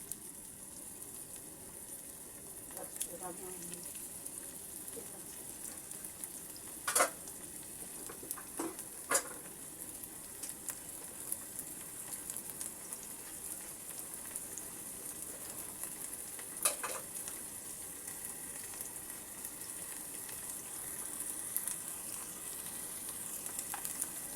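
Ginger-garlic and onion paste fries quietly in a pot for a beef and vegetable curry, a soft continuous sizzle with a few brief stirring clinks, no one talking.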